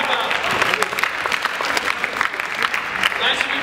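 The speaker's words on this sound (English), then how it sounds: "everybody give her a round of applause" An audience at a high school chapel gathering breaks into steady, dense applause, loud and sustained throughout with clapping filling the space.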